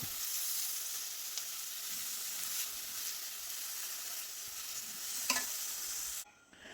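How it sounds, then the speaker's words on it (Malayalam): Two medium onions sautéing in a hot pan for a cluster bean and potato masala curry sizzle steadily while a spoon scrapes and stirs now and then, close up, before the frying noise drops away near the end. "സവാള ഇട്ട് കൊടുത്ത് ഒന്ന് ഇളക്കി കൊടുക്കാം"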